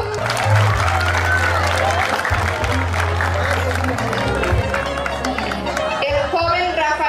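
Guests at a quinceañera celebration applaud steadily as the birthday girl's chambelanes and damas are presented, with a crowd murmur and music underneath.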